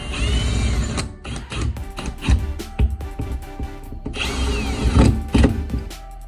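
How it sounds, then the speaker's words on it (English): A screwdriver tightens towel bar hardware into drywall, giving close, busy mechanical ratcheting and clicking in bursts, with short pauses between runs. "Now I'm going to tighten everything down with my screwdriver."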